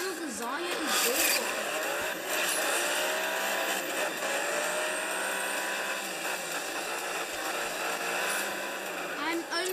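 Race car engine boosted by nitrous in a Class A racing video game, a loud, sustained roar with rising and falling pitch and occasional tire squeal running throughout.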